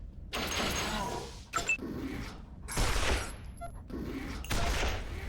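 Gunfire bursts from the post-apocalyptic video game Wasteland 2, arriving in three loud broadband volleys separated by brief lulls, with small mechanical clicks and tones between them.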